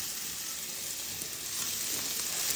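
Onions frying in a hot uruli pan give a steady, close crackling sizzle that swells slightly toward the end, with no one talking.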